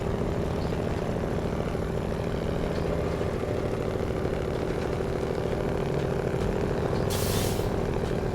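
A Kenworth truck idles with a steady engine drone in a trucking video game, then a short, sharp air brake hiss bursts out near the end.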